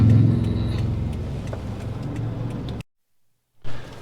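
Cars roll past in stopped traffic on a Thai road, a close, continuous engine rumble and tyre noise that cuts abruptly to near silence before another vehicle swells in loudly at the end.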